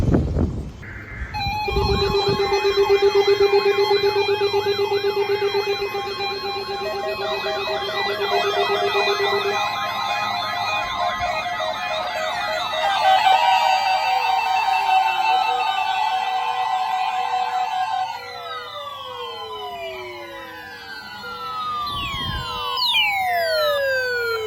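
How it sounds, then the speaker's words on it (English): Emergency alert alarm tone from an iPhone 15 Pro, loud and continuous: sustained steady and warbling siren-like tones layered together, shifting to rapidly sweeping, falling chirps in the later part, with no speech. "Tests of this alarm tone are normally conducted"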